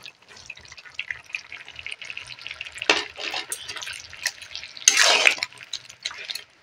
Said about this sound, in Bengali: এবারে আমি দিয়ে দেবো টক দই।